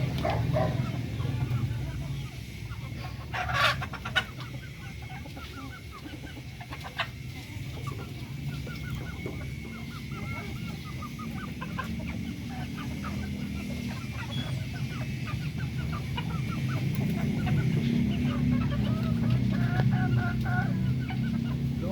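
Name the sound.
chickens clucking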